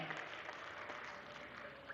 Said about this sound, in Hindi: एक बार जोरदार तालियां हमारे सभी मेधावियों के लिए।